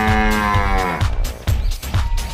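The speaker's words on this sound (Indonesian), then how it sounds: "Wow, di sini ada sapi." A cow in a dinosaur video game (Jurassic World Evolution 2) gives a loud, drawn-out moo with a rich droning tone, followed by several short low thumps in a steady rhythm.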